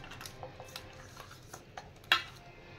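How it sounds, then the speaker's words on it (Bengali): Fish being rubbed by hand with turmeric, salt and raw mustard oil in a home kitchen: soft wet squelching and rubbing, with a few light clinks of a metal bowl and one sharper knock near the end, close and alone. "এবার আমি সর্ষে তেল একটু দিয়ে মাছটা ভালো করে মাখিয়ে নেব।"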